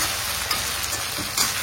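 Chopped tomatoes frying in a pan for a chicken curry, giving a steady, close sizzle with faint stirring scrapes and no talk.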